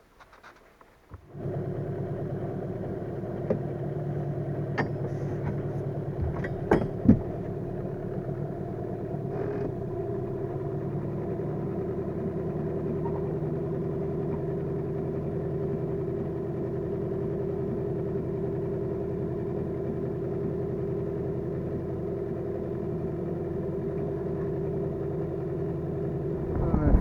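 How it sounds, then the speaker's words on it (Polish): A small boat's outboard motor starts and runs with a steady, moderately loud drone on a reservoir, a few clunks and taps early on, then continuous even running. "Spalamy na razie silniczek."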